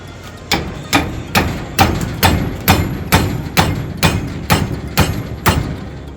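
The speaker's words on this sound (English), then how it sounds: "Put it back on the vise and slam it down." A metal trailing arm for a Ford F250 prerunner build is slammed down on a vise again and again, giving a steady run of about fourteen loud, sharp metallic impacts spaced roughly half a second apart, close up and with no talking.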